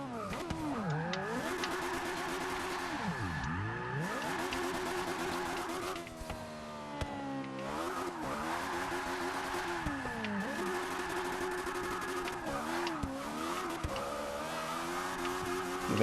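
A 775 BHP Lotus Elise in Forza Motorsport 6 drifts at Indianapolis Speedway, its engine revving high and looping through repeated up-and-down sweeps over a steady loud roar, with faint tire noise.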